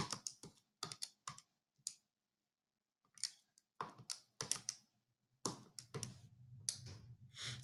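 Calculator keys being pressed in quick clusters of crisp, close clicks separated by short pauses, with a fuller run of taps near the end.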